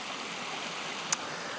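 A small mountain stream flowing near a hillside path: a soft, steady wash of running water, fairly faint and even, with a single tiny click partway through and no voices.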